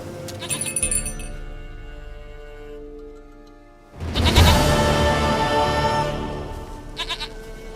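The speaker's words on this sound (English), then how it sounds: "Goat of mine, dearest, sweetest goat." A goat in the video game The Witcher 3 bleats in drawn-out, wavering calls, one early and a louder, longer one midway, with a ticking sound at the very end.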